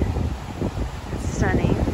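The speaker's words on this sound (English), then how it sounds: "Ooh, it's windy." Wind buffets the microphone in steady low rumbling gusts at a beachside hotel in Tulum, Mexico, with a voice speaking briefly over the blustery noise.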